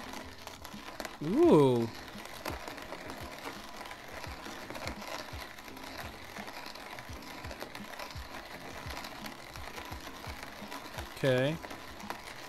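Coffee beans being ground in the video game DayZ, heard as a mechanical whirring and ratcheting under game ambience, with two brief louder bursts and a few short spoken words.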